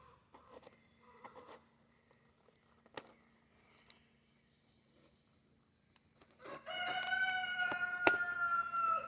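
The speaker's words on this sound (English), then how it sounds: "That's our cock crowing." A rooster crows loudly and close by near the end, a drawn-out harmonic call that follows a few seconds of quiet rustling and soft clucks in the background.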